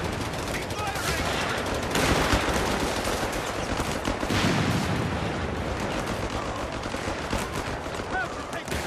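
Dense, continuous gunfire fills the Company of Heroes 3 Italy campaign: overlapping rifle and machine-gun bursts, heavier booms, and battle noise that never lets up, with faint voices shouting somewhere in the mix.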